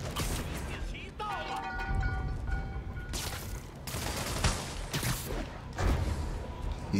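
Rockets fired by enemies in the Spider-Man PS4 video game boom and rumble over dense, continuous game noise, with bursts of crackling fire and a whistling tone near the start, loud throughout.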